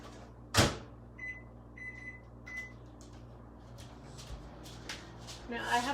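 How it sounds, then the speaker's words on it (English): A microwave door thumps shut and a few short beeps follow, then a low steady hum from the oven runs on with small clatters nearby as sweet potatoes cook. "So I'm just going to pop this in the microwave."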